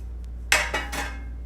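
A metal baking pan set out in a home kitchen for strawberry biscuits gives a sharp clank, then two softer knocks and rattles in quick succession, up close with no talking.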